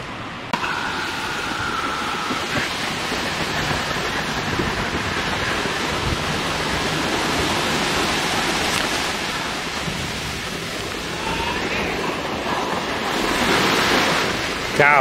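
Ocean waves wash steadily onto a beach, a continuous broad roar of surf with some wind across the microphone, loud and close, swelling slightly toward the end.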